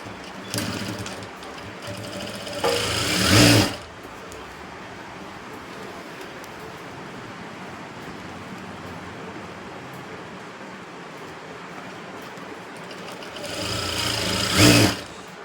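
A sewing machine stitches a straight seam on a blouse, with two short whirring bursts at the start and end separated by quiet room tone.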